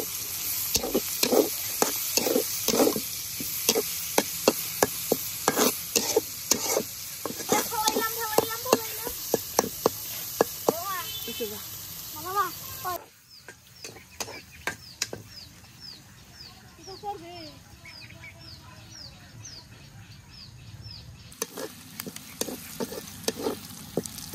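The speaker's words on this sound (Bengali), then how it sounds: "পেঁয়াজ কাঁচামরিচ রসুন খুব ভালোভাবে ভেজে নিয়েছে" Onion, green chili and garlic sizzle in oil while a utensil stirs and scrapes the pan in quick, repeated strokes. In the village setting, birds and chickens cluck faintly in the background.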